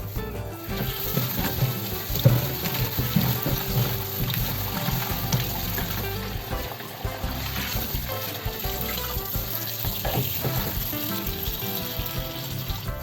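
Aloe vera leaves are washed under a running tap, with a steady splash and trickle of water into a sink that carries on unbroken throughout, close and moderately loud.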